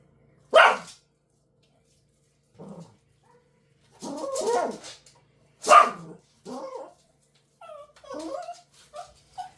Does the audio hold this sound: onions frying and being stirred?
no